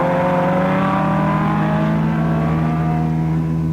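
A car passing by as a radio drama sound effect, a loud engine drone with rising then falling pitch as it sweeps past, continuous and close, no talking.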